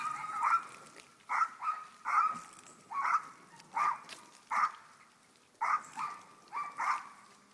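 Dogs bark repeatedly outdoors, sharp single and doubled barks in an uneven rhythm at moderate distance, with nothing else heard between them.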